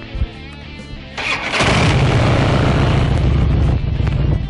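A 2006 Harley-Davidson FLHTCU Ultra Classic Electra Glide motorcycle engine cranks and catches, then settles into a loud, steady rumbling idle close to the listener.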